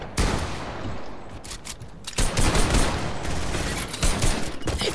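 Dense video game gunfire during a first-person shooter match, a sustained roar of overlapping shots with loud bursts near the start and again after the two-second mark, no talk.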